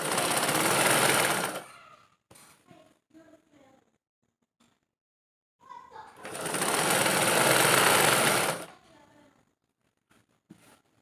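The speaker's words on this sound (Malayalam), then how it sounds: "അതിനുശേഷം നെക്ക് ഒന്ന് സ്റ്റിച്ച് ചെയ്ത് കൊടുക്കാം" A sewing machine stitches the neckline of a nighty in two loud, steady runs of whirring, with a short pause and light handling noises between them and faint clicks at the end.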